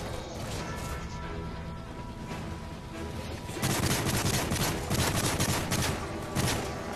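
Rapid bursts of automatic gunfire in Call of Duty: Modern Warfare 3 Special Ops co-op, rattling dense and loud over a busy game soundscape, intensifying midway with repeated shot volleys.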